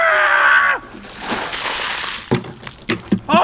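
A bucket of ice water dumped over a person for an ice bucket challenge: after a shout, a rushing splash and slosh of water, then scattered drips and clatter as it ends.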